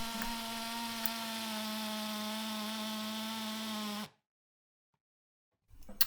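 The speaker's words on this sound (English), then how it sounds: "And this is the Bosch now, drilling into the brick." A Bosch drill bores a 6mm hole into brick, a loud steady whining drone running for about four seconds before cutting off to silence, then a brief clatter at the end.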